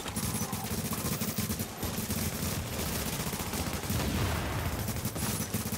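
Rapid video game gunfire in a shooter match, dense bursts of automatic fire and overlapping shots sounding continuously and loudly across the whole stretch, with no talking.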